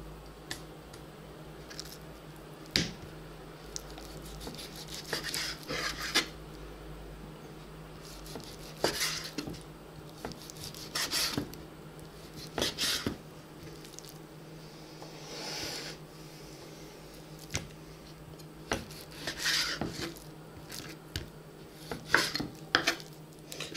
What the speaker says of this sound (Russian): Нарезаем вот так вот мяско.